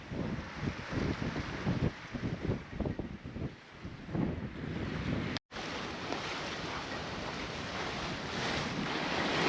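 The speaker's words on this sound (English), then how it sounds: "We have winds of steady 18 knots, gusting to around 22." Steady roar of wind, 18 knots gusting to 22, over the microphone with waves rushing and splashing against a moving sailboat in the Bahamas, continuous and loud, with one brief dropout.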